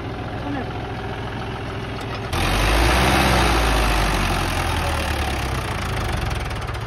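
A John Deere 5050D or Sonalika 750 tractor engine runs steadily at idle, its low rumble swelling louder partway through and holding near and continuous.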